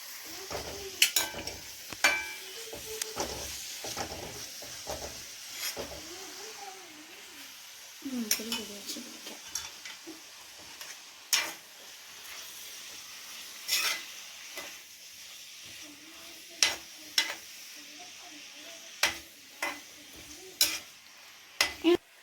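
Cauliflower curry stirred in a pan, with a spoon scraping and knocking against the metal at irregular intervals over a soft sizzle, while someone talks throughout.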